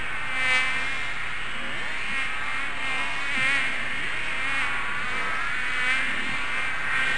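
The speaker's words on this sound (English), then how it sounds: "It is a Tuscany mosquito demo." Mosquito buzzing inside a Tuscany VR demo game, a steady high-pitched whine that rises and falls slightly, as if circling close by, with no talk over it.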